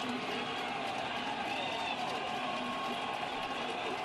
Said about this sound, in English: the crowd that is at Fenway stirring here at the old ballpark